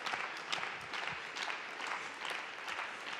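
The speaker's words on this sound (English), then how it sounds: "The crowd getting behind this action as this main event culminates." An arena crowd claps through a main-event tag-team pro wrestling match, the applause sustained and fairly even, with sharper bursts of clapping rising from it.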